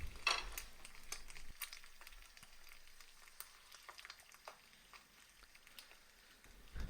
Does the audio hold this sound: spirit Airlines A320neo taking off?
no